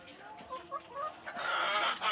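Fayoumi chickens cluck nearby in short, irregular bursts on a poultry farm in Jamalpur, Bangladesh, with a busy, slightly noisy farmyard background.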